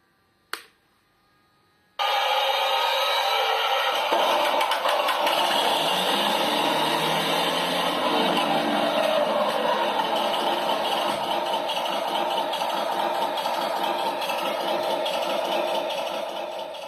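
A Heng Long Tiger 1 RC tank in 1/16 scale with its electronic engine sound unit switched on: after a brief click, a loud, steady synthetic engine drone with a rattling idle runs continuously alone, fading slightly at the end.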